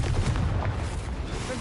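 A Confringo fire-blast spell in Hogwarts Legacy, a booming burst with a rumbling roar that lasts the whole short moment, loud and near, with a voice in the game over it.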